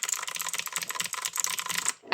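Rapid, continuous clatter of a friend's 60% mechanical keyboard with clicky blue switches, keystrokes tumbling in a dense close-up stream during a Bubbles game before stopping abruptly.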